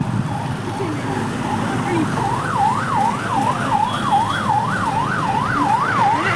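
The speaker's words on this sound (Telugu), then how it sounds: "అంబులెన్స్ కోసం దారెత్తున్నట్టున్నారండి." An ambulance siren wails in a rising and falling pattern through highway traffic, growing clearer over a steady road and engine rumble, with a faint voice underneath.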